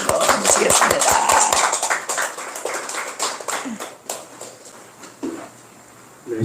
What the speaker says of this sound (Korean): 우리 박수로 박수로 모시겠습니다.